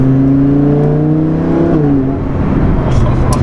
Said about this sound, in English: It's got a raspy exhaust system,